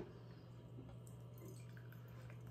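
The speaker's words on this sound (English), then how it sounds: "I'm going to pour the Coors Light first." Coors Light beer is poured into a glass as a faint, steady liquid trickle over a low background hum.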